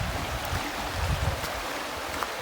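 Flowing water from a clear stream on an English countryside walk, a steady broadband rush with low gurgling, continuous and fairly close, with no voices.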